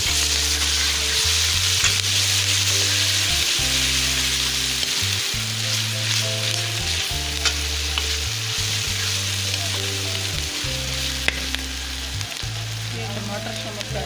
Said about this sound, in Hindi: ये 1 टीस्पून लहसुन अदरक पेस्ट शामिल कर लें।